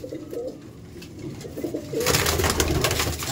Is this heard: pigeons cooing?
yes